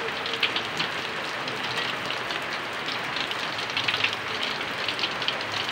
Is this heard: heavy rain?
yes